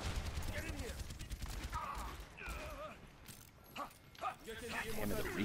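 Revolver shots from McCree in the video game Overwatch, a few sharp cracks scattered among busy game effects, other sounds and talk.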